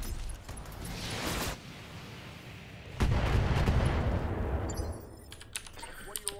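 Mech weapons fire at an enemy in the video game Battletech, heavy booming volleys in two bursts, the second louder, followed by scattered clicks, with a voice talking over the action.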